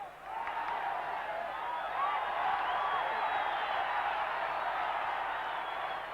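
Stadium crowd at a 1990 Colombia v USSR friendly football match, a broad steady roar of cheering and whooping that swells and holds throughout, with a commentator's voice faintly under it.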